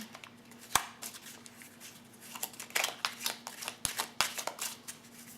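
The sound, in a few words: shuffling and drawing oracle cards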